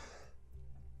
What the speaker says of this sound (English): Excuse me, but a terrible cough.